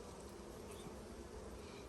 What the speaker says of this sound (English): So there's a bee bringing in pollen right there